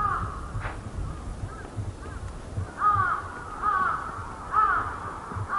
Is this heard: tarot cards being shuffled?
no